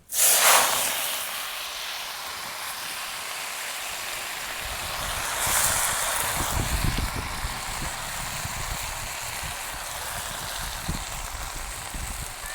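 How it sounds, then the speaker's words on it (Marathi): Washed leafy greens dropped into hot oil with cumin, mustard seeds and turmeric, giving a loud burst of sizzling hiss that settles into a steady crackling fry, with a second surge partway through as the greens are stirred. "आपण ही धुवून घेतलेली भाजी आहे ती टाकून घ्यायची"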